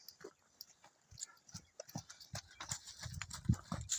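A Brabançon crossbreed stallion moves around and its hooves clip-clop irregularly on the ground nearby, with scattered thuds growing busier toward the end and faint background noise.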